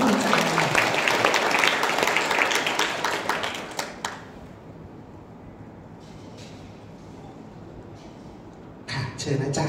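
Audience applause at a Thai study-abroad discussion event: dense, fairly loud clapping for about four seconds that then fades to scattered claps and room noise, with a short burst of clapping again near the end.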